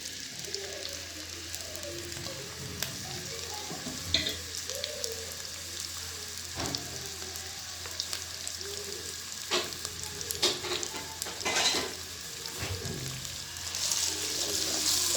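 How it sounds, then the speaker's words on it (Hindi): Onions added to hot oil in a kadai for chicken aloo gosht fry with a continuous moderate sizzle and scattered crackles and stirring scrapes, up close with no talking. "अब हम इसमें प्याज ऐड करेंगे।"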